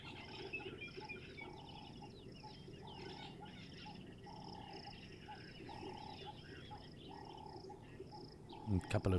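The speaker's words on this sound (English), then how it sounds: "And a couple of frogs as well calling" A couple of frogs call faintly in a nature setting, their croaks pulsing irregularly among a continuous chorus of insects, distant and soft throughout.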